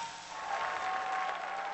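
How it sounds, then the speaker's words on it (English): A crowd at a Blizzcon StarCraft tournament cheers and applauds, a dense, steady roar of clapping and voices filling the hall, fairly distant and without commentary over it. "The crowd is cheering, and that means now Ra is good to go."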